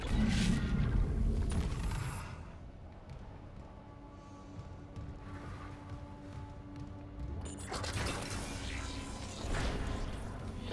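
A station lockdown lifts in Dead Space with a heavy mechanical rumble, creaking metal and clanks that swell, ease, then rise again near the end, loud and continuous.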